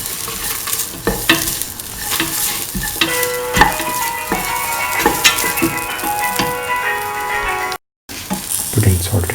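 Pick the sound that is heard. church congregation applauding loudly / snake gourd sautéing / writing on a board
snake gourd sautéing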